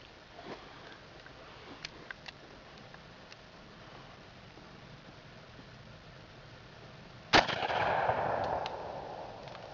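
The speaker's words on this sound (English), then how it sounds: "I'm gonna shoot this one a little bit lower." A single shotgun blast firing 7.5 birdshot through a four-inch wall cracks sharply near the end, its loud report trailing off into a rushing echo after several seconds of quiet background.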